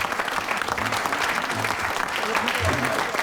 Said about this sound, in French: Ils méritent des applaudissements